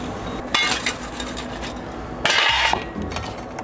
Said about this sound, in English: take the chips out of the oil